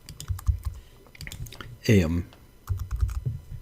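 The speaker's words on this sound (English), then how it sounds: "sorry, the typing is so loud" Loud computer keyboard typing in quick bursts of clicks, close to the microphone, broken by a short spoken interjection in the middle.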